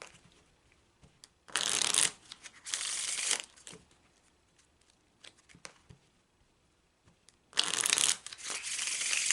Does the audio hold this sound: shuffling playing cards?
yes